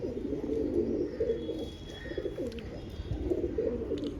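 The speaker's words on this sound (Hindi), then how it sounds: "बहुत अच्छा लगा हमें ये कबूतर" Domestic pigeon coos in low, throaty, repeated phrases close by, steady and moderately loud, with no talking.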